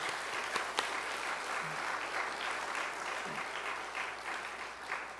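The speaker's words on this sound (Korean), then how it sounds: "우리 한번 다 같이 우리 박수 한번 드리겠습니다" A church congregation applauds together, steady dense clapping at moderate level with a couple of sharp louder claps near the start.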